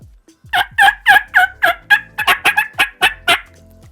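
Someone blows a diaphragm mouth call to imitate a turkey, producing a loud, close series of about a dozen raspy yelps in a quick rhythm that speeds up toward the end, alone without talk.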